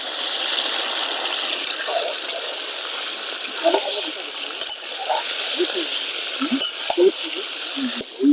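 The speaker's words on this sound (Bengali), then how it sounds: "কাঁচা লঙ্কা এবং টমেটো দেওয়ার পরে আমি এখানে আরো 5 মিনিট ভেজে নিয়েছি" Chopped tomatoes and green chillies frying with country chicken in a pan, a continuous bright sizzle and hiss with occasional stirring scrapes and spatters.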